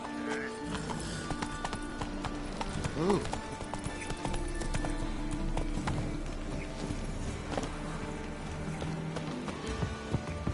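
Roach, a horse in The Witcher video game, clip-clops with steady hoofbeats and a brief whinny, mixed under game sounds and a voice talking.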